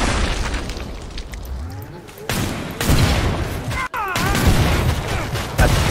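Enemies explode in Killing Floor 2 amid gunfire, a dense run of loud booms and bursts with rapid shots, one sharp cut in the middle, and game voices mixed into the chaos.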